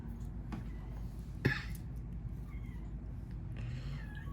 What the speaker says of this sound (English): one of those kittens hears me talking